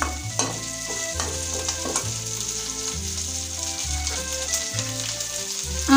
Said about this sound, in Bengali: এখানে আমি ফোড়নের জন্য তেল দিয়েছি, আর দুটো লঙ্কা দিয়ে দিচ্ছি, শুকনো লঙ্কা দেবো,